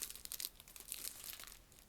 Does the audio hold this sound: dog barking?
no